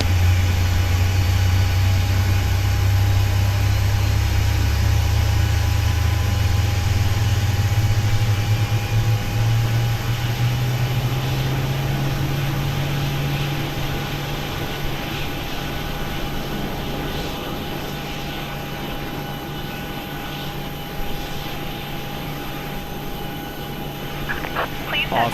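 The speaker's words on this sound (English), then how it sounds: "We have a good engine start." Boeing 737-800 engine spooling up during start in the PMDG flight simulator, a loud low drone rising steadily in pitch over the first fifteen seconds, then settling into a steady whine and hum.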